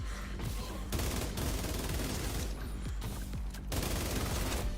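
Gunfire in The Division 2: rapid automatic bursts crackle in several volleys with brief gaps, loud and close, while a voice is heard faintly underneath.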